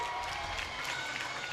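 At a girls' high school basketball game, the crowd roars after a three-pointer, a dense, sustained wash of cheering and applause that fills the whole moment.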